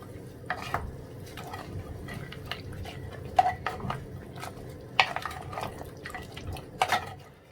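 Mutton karahi with cumin, whole red chilies and garam masala is stirred in a pot, a spoon scraping and clinking against the metal in uneven bursts over a soft background hiss.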